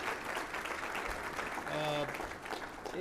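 Audience applause for Blayne Arthur at an Oklahoma agriculture event, a steady wash of clapping across the room with a brief tonal sound and voices mixed in underneath.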